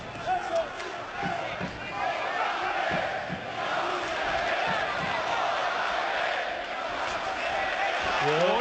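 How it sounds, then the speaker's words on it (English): A boxing crowd roars at a European championship bout, a loud, steady wall of cheering and shouting that surges toward the ring and holds throughout, with a commentator's voice faintly mixed in. "the crowd, going mad here, surging towards the ring"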